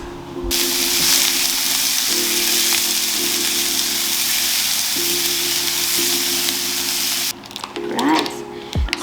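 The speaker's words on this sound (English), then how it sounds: "we're gonna just fry this" Food fries in a pot with a tablespoon of oil, a loud, steady close-up sizzle that runs nearly unbroken before cutting off into a brief clatter near the end.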